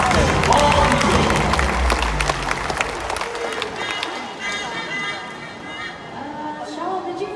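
Audience applause at a live raptor show honoring a bald eagle, a dense burst of clapping and crowd noise for the first few seconds that thins into a softer murmur with scattered voices.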